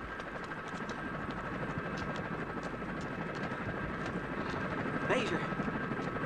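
Helicopter flying in a 1985 Soviet action film, a loud steady rotor chop and engine drone throughout, with a rising swoosh effect near the end.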